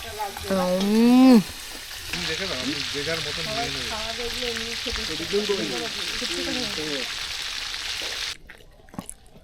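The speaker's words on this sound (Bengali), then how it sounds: "গরম গরম মাছ ভাজাটা হয়ে গেছে" Fresh pond fish frying in hot oil outdoors, a continuous hiss of sizzling under loud, animated voices talking and calling, ending with a few clattering knocks.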